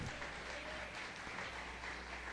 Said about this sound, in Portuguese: Mais uma salva de palmas ao Senhor.